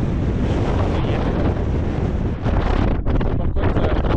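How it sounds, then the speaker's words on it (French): Strong, cold wind roars across an open hiking trail in the Massif Central, buffeting the microphone with a loud, continuous rushing that swells and dips briefly, with no voices. "Là, il y a un vent de tordu, il fait super froid."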